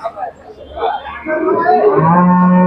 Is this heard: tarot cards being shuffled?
no